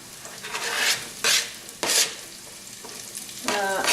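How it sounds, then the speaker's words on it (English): Spring onions hitting a hot oiled pan in a pork stir-fry, with bursts of loud sizzling and scraping as they are stirred, close up, separated by brief quieter gaps. "The pan is nice and hot now, so I'm going to add the spring onions to the pan."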